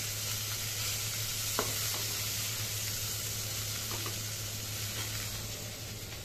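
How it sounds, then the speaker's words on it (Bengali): Food frying in a pan on a home stove, a soft steady sizzle under a low constant hum, with a couple of faint clinks of stirring. "এই দেখো, এটাকে ভেজে নিচ্ছি।"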